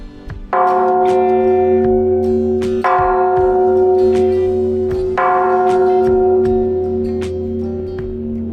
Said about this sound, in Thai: ไม่ได้มาตีระฆังใบนี้ ก็เท่ากับว่ามาไม่ถึงเมืองอุทัยธานี